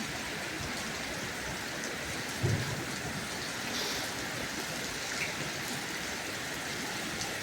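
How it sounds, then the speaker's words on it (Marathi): Steady heavy evening rain hisses continuously, a sudden dense, even downpour with a brief thud partway through. "खूप खतरनाक पाऊस पडत होतो तो बघा असा पडतो तो"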